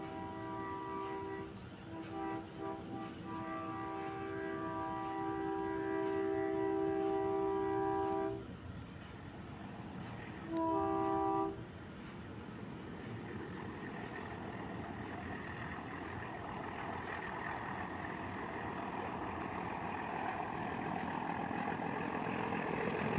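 An old diesel locomotive on an Indian meter gauge line sounds its horn in long steady blasts, then a short second blast, over a low rumbling engine and rolling rail noise.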